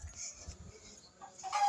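A chicken clucks in short soft bursts nearby, a few quick low calls early on, then a brief louder cry at the end in an otherwise quiet garden.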